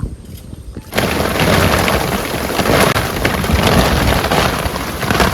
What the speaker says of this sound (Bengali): সেই লেভেলের বৃষ্টি হচ্ছে